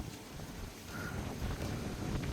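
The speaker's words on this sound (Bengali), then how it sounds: "তো দারুণ রকমের ঠান্ডা ঠান্ডা হাওয়া বইছে।" Cool wind blowing across a rooftop before rain, a steady rumbling gust buffeting the microphone at close range, continuous and fairly faint, without any talking.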